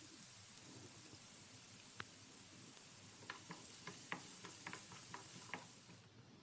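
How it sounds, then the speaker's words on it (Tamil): Quiet frying of beetroot in a pan: a soft, steady sizzle with scattered light taps and clicks of stirring, no voices. "நாம் இதை நல்லா வதக்கலாம்."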